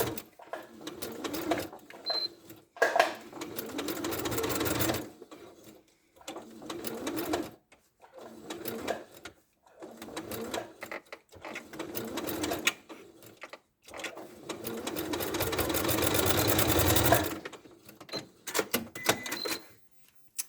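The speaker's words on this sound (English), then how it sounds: "I'm going to sew around the edge. So I'm going to go through all 3 layers." A sewing machine stitches around the edge of a ladybird soft toy, through fabric and batting layers. Repeated bursts of fast, close whirring stitching are separated by short silent pauses.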